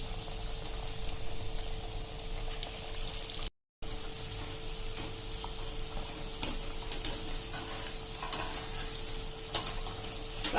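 Moong dal vadas frying in hot oil over a medium flame, a steady bright sizzle and crackle with a faint hum underneath, briefly cut out once before the frying noise resumes.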